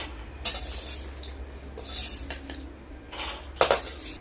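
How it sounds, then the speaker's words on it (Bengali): Fried lentil dumplings (bori) are lifted from a pan with a metal utensil, giving several sharp scraping clinks and taps against the cookware over a faint background, with no talk. "বড়িগুলো ভাজা হয়ে গেছে আমি তুলে নিচ্ছি"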